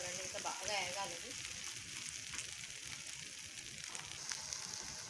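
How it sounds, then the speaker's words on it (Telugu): Okra and peanuts fry in an oily pan with a continuous crackling sizzle, close and moderately loud, with a few stirring scrapes. "ఇలా మనం బాగా వేయించుకోవాలండి, ఇంకా బాగా వేగాలండి"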